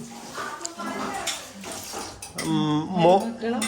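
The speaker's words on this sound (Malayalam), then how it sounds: "പാത്രം കഴുകലും" Dishes, pots and cutlery are washed in a home kitchen during family cleanup after a birthday celebration, with clinks and clatters of metal utensils and running water as people talk nearby.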